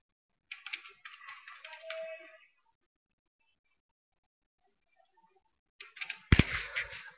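Computer keyboard typing while entering sample data into a spreadsheet-style editor: a quick run of clicky keystrokes, a pause of near silence, then another burst ending in a sharper key thump, close and clear.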